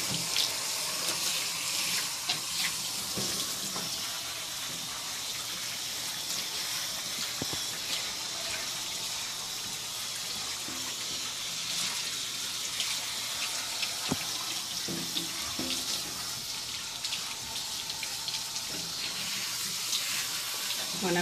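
Water from a tap or sprayer runs steadily as soap is rinsed off a dog being groomed, a continuous close hiss and splash lasting throughout with small shifts in flow.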